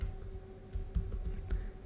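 Typing on a computer keyboard, a quiet, close run of irregular key clicks and taps with brief pauses, no voices.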